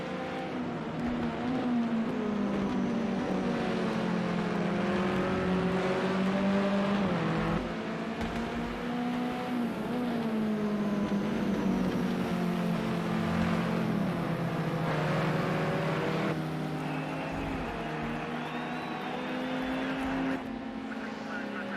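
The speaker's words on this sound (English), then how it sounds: "Two BMWs going at it." Two BMW race cars battle at Watkins Glen in a virtual touring-car racing game, their engines a steady, close drone that rises and falls in pitch with gear changes for the whole stretch.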